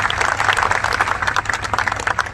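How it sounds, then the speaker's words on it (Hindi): A university audience breaks into applause, a dense, steady patter of many hands clapping at close range, continuing evenly without any voices on top. "एक बार जोरदार ताली होनी चाहिए।"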